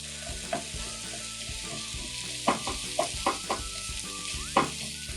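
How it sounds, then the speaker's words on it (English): Onion sautés in olive oil in a saucepan over medium-low heat with a steady soft sizzle and occasional stirring taps, close and fairly quiet, with no voices. "Sauté over medium-low heat until the onion becomes translucent and a light, sweet aroma develops"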